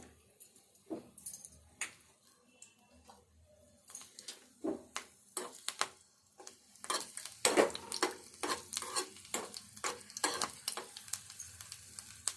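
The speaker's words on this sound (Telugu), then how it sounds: "ఫస్ట్ ఒక 3 ఎల్లిపాయలు వేసిన, ఎందుకంటే ఎల్లిపాయలు తొందరగా వేగాయి కదా." Three garlic cloves frying in hot oil in a pan for an eggplant and onion dish: a soft sizzle under irregular, close clinks and scrapes of a spoon stirring, growing busier toward the end, with no talking.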